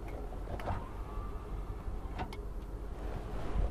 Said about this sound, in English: Power windows down.